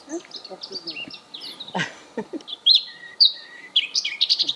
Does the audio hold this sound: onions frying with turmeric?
no